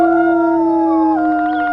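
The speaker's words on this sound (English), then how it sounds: "let's do a nice big solid howl" A wolf in the game WolfQuest gives a long, loud, sustained howl with steady tones that glide downward partway through, close and clear with no talking.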